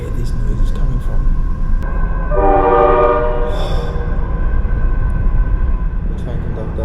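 A train rumbles steadily throughout, with a loud horn blast sounding in the middle over the continuous rolling noise.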